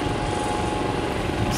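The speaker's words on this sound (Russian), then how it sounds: "Вертолеты" Helicopter rotor and engine noise at a hospital landing area in Ulm, Germany, a steady dense rumble that holds constant and loud throughout with no talking over it.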